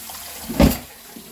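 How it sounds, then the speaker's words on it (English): Rice being washed by hand in a pot of water for Jamaican stew peas, giving one short, close swish and splash of water mid-way, with quiet room tone before and after. "If the water is still white, then you know that the rice is not washed."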